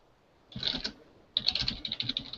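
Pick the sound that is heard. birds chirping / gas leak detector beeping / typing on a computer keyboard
typing on a computer keyboard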